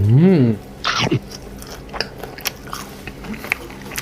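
Dried strawberries coated in chili salt are chewed up close, giving a few sticky, crunchy bites and soft mastication noises after a brief vocal sound at the start.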